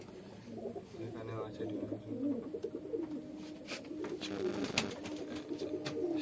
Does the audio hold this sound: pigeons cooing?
yes